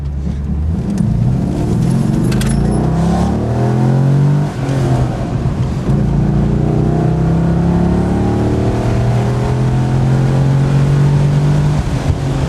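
A Corvette engine fitted with water vapor injection revs and accelerates continuously, a loud, close, steady drone with rising and falling harmonic pitch sweeps as it pulls through the gears.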